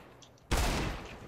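Gunfire in the video game CS:GO during a professional match: a sudden loud burst of rapid shots bursts out after a quiet moment and rings on densely for the rest of the moment, with no talk.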